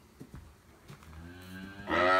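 Holstein Friesian calves on a dairy farm moo close by. A low, drawn-out bellow rises and gets louder toward the end, after some softer grunts and rustling.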